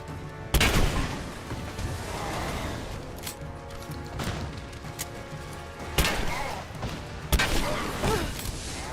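Heavy-recoil gunfire in Rise of the Tomb Raider, several loud, sharp blasts spaced a second or two apart over a busy rumbling game soundscape.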